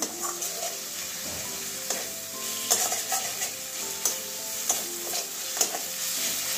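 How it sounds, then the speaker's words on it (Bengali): Chopped tomato being stir-fried with turmeric and spices in a pan, a steady sizzle under repeated scraping and clinking of a spoon against the metal, with sharper knocks every second or so and no voices. "টমেটো কুচি দিয়ে দিচ্ছি, মশলার সঙ্গে তাও কষিয়ে নেব।"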